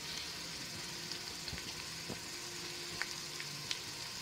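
Dried chilli, coriander powder, turmeric and salt fry for mutton paya with a faint, steady sizzle, broken by a few soft taps and clicks, quiet and close with no talking.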